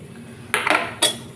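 Poppy seed paste going into a pan of bottle gourd greens, with two distinct clinks of a utensil against the pan a moment apart, close and fairly loud over a quiet background.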